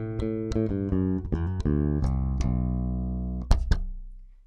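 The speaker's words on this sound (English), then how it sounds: "Here's how the bass sounds." Jackson JS3QV bass guitar in active mode with both humbuckers on, a series of plucked notes with clear ringing tones, ending in two sharp slapped or popped notes that decay away.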